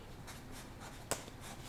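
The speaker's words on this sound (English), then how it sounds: "How do we write that? We just write Ricky" Marker or chalk strokes on a classroom board during a second-grade language lesson, soft rhythmic rubbing with one sharper tap, close and faint.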